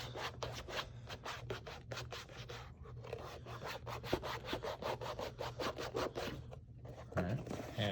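A fingertip rubs cream into shell cordovan shoe leather, making rapid repeated close scratchy strokes in an even rhythm, faint and quiet, with no talking.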